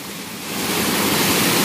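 Water pours down a rocky waterfall, captured up close as a dense, steady roar that swells louder after the first half second and stays constant.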